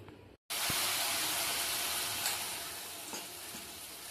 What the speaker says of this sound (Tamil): நம்ம இப்போ பேஜோவுக்கு வடைக்கு மாவு ஊற்றிக்கலாம்